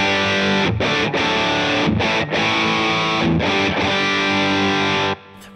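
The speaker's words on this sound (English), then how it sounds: "So here's the sound of the rectifier." A Mesa Boogie Rectifier guitar amplifier set to a high-gain tone roars with thick, saturated distorted electric guitar chords, loud and sustained, with brief breaks between strums before the final chord cuts off.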